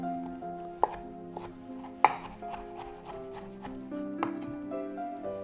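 Knife chopping cooked turkey into small pieces on a board makes a run of irregular taps, a few sharper knocks standing out, close and fairly quiet, with light background music.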